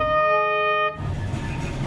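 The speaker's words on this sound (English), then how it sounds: "A cargo train on the standard gauge railway takes about 8 hours from the port of Mombasa to the Nairobi Inland Container Depot." A cargo train on the Mombasa–Nairobi standard gauge railway sounds a loud, steady horn for about a second, followed by the close rumble of the rolling wagons.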